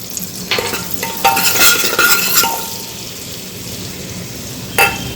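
Cumin seeds dropped into hot melted butter for pav bhaji give a sharp crackling sizzle with metallic spoon clinks against the pan, loudest early, then settling into a softer hiss and ending with one more clink.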